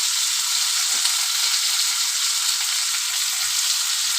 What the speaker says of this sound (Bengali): হলুদ দেবো, দিয়ে একটু হালকা ভেজে নেব।